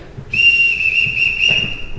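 A single loud, sustained, steady-pitched whistle starts abruptly in a household and holds for nearly two seconds, with a faint murmur underneath.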